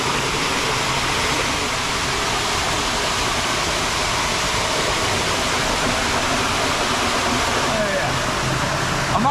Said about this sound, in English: It sounds like the water's moving pretty fast.